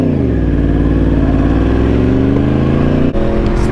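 A Suzuki Gixxer motorcycle engine revs hard and steadily for a wheelie attempt, its loud, close pitch climbing and then dropping with a sudden shift near the end.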